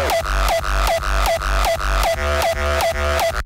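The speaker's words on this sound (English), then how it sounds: "So combined with the bass, you get this." Heavy distorted hardstyle kicks pound in a steady four-on-the-floor rhythm, fused with a loud, gritty bass tone, close and dense with no voices.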